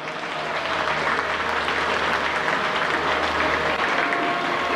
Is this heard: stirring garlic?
no